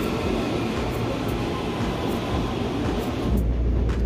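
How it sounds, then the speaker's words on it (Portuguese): CPTM commuter train on Line 11 or 12 pulling into a station in Mogi das Cruzes, a loud continuous rumble and rush of wheels and motors that grows heavier toward the end, with no talk. "O trenzão chegou, pessoal, agora é só embarcar e finalizar a nossa viagem."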